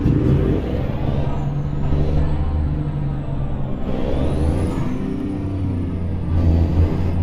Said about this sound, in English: the loping idle that these things do